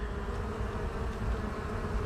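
Honey bees humming at a hive while a nucleus colony with a new queen is inspected, a dense, continuous buzzing swarm close by at moderate volume, with no voices.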